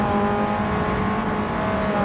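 Race car engine in Gran Turismo heard from the onboard camera, a loud, steady droning whine held at high revs throughout, with no voices.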